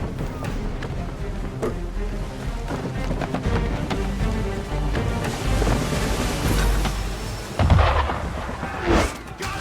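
Heavy naval cannon fire from a sailing warship in Assassin's Creed III booms over a dense rumbling game soundscape, with a loud close blast near the end and another burst just after it.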